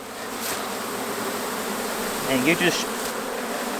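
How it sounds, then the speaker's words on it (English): Package bees buzz in a dense, steady drone as they are shaken out of their package into a hive on a cold day, with a brief swell of agitated buzzing midway and someone speaking faintly over it. "pour those bees out. And you just shake the heck out of them."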